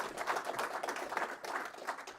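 Audience applause at a live-streamed education event, steady dense clapping across the whole stretch with no talk over it.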